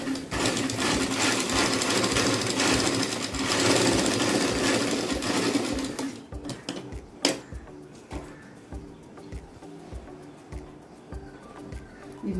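A sewing machine stitching a blouse runs in a loud, steady whirring burst for about six seconds, then slows into separate uneven clicks and thumps as the fabric is handled.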